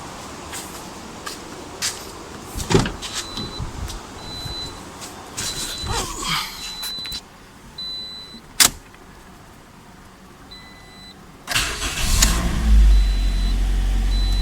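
A 2018 Toyota Corolla XLI being started and run, with a brief crank and engine catching, interior clicks and a switch, then a louder steady engine hum toward the end, close by with no talk.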